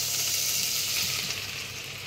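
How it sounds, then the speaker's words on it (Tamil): Bread slices fry in melted butter in a pan for an Indo-Chinese bread masala, giving a close, even, continuous sizzle with soft hiss and no talking. "இப்போ நம்ம பட்டர் போட்டு நம்ம இப்போ இந்த பிரெட்டை ஃப்ரை பண்ண போகிறோம்"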